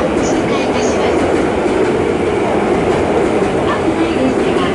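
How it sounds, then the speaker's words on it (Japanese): A freight train hauled by an EF81 electric locomotive rumbles steadily past a station platform at close range, a continuous loud roar of wheels and cars with faint rhythmic clatter. "まもなく3番線を列車が通過いたします。"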